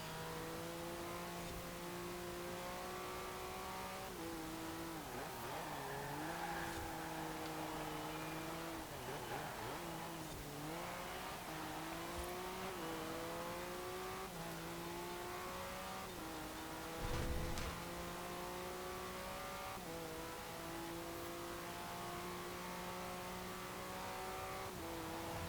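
A dune buggy engine races in Forza Horizon 4, droning steadily and loud throughout, its pitch climbing and dropping repeatedly through gear changes and revs, with a brief burst of extra noise midway.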